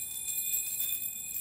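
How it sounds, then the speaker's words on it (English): Metal keys strung on a cord as a key chime give a bright, steady shimmer of high tinkling tones, sustained and fairly even throughout with no voices. "It's a key chime."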